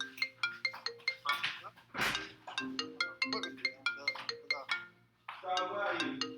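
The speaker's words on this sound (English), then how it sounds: "I'm getting a phone call." A phone ringtone from an incoming call plays as a repeating melodic pattern of short tones, moderately loud with a brief gap near the end.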